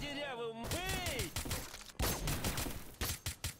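Rapid bursts of futuristic gauss gun fire in the shooter game S.T.A.L.K.E.R. Global War, loud electronic zaps and cracks repeating across a chaotic firefight with sweeping tonal whines, with a voice faintly mixed in.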